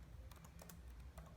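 Typing on a computer keyboard as a photo caption is entered: a handful of quiet, irregular key clicks close by, faint against low room noise.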